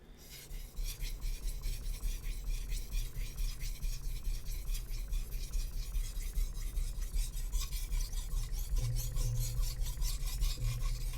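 A Japanese boning knife is drawn across a whetstone in steady, rhythmic rasping strokes, close and continuous, with a deeper grinding stretch toward the end.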